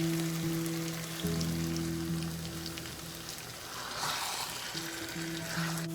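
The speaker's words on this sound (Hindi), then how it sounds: "इसमें मैं चिकन ऐड करूंगी और चिकन को कलर चेंज होने तक थोड़ा फ्राई करेंगे इसमें।" Chicken frying in a pan with sautéed garlic and ginger gives a steady, close sizzle like light rain, with a constant humming tone running underneath and no talk.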